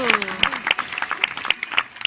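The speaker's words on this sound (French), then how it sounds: "On peut l'applaudir." A short burst of clapping from a small crowd at Pont-Scorff zoo, uneven claps ringing out over faint chatter.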